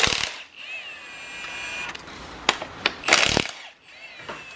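Impact wrench with a 15 mm socket loosening top bolts on a junkyard LS 5.3/4.8 V8 engine during teardown: a few short, loud rattling bursts stand out, the last and longest near the end, with workshop noise around them.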